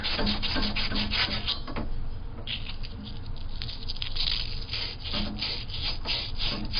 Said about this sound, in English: It's simply emery cloth, 120 grit.